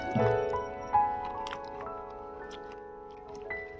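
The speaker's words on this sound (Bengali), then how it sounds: "এবারে দিয়ে দিচ্ছি অল্প একটু জল" A small amount of water trickles and drips onto fish laid in banana leaves, a quiet close pour with a few soft splashes and clinks, no talk.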